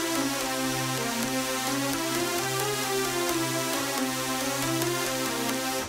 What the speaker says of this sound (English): you get what's called a Spanish gypsy kind of scale